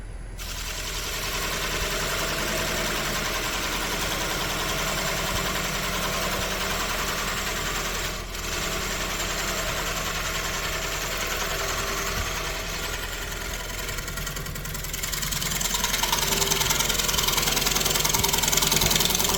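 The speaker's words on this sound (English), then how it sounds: "I'm going to bring in a skew chisel and scrape the side of this cylinder so that I can get it the right diameter." A wood lathe spins a wooden cylinder inside a block while a skew chisel scrapes its side, giving a steady, loud whirring drone with a rough scraping texture that grows slightly louder near the end.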